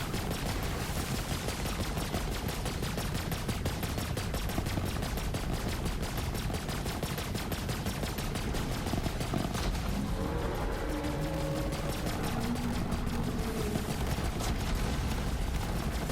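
Moze in Borderlands 3 unloading sustained rapid gunfire, a dense continuous rattle of shots with impacts throughout, with tonal game effects chiming in near the end.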